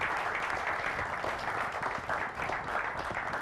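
Church congregation applauding and cheering to welcome a guest, a thick, continuous roar of clapping and voices filling the room, loud and sustained from start to finish.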